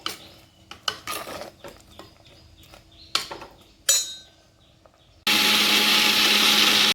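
An electric kitchen mixer grinder blends coconut paste with water for a homestyle Kerala curry, its loud steady whirring starting abruptly after a few seconds of clinks and light kitchen handling sounds.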